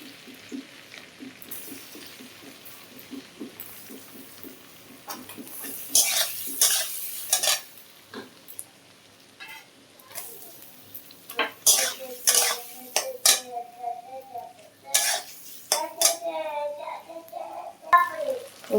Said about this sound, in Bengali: পনিরগুলো ভাজা হয়ে গেছে, আমি নামিয়ে নেব।